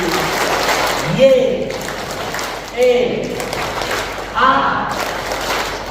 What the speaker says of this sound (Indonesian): Tepuk kerahiman ilahi.